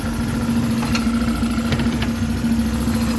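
Honda Click 150 scooter engine idling on a dyno, a steady mid-pitched hum with a constant drone and slight vibration, close and continuous with no talk.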